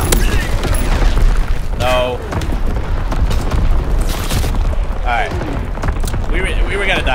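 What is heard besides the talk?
incoming enemy artillery explosions in Call of Duty WW2 video game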